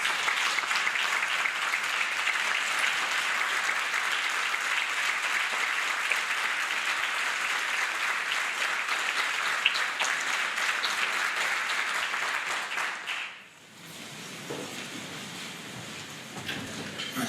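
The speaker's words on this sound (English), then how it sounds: "So I think we owe her an applause, a standing." A large conference audience at an opening session gives a long, steady round of applause, dense and even for over ten seconds before abruptly dropping to quieter scattered clapping near the end.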